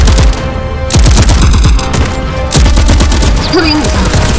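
Loud rapid bursts of automatic gunfire from an animated sci-fi series, rattling volleys in quick succession with a short pause between bursts and a whooshing effect near the end.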